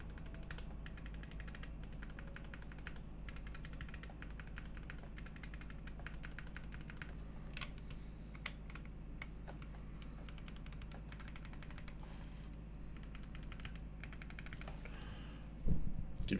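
Typing on a Prime_E prototype mechanical keyboard, a soft stream of rapid clicks and clacks over a steady low hum, fairly faint, ending with a louder bump.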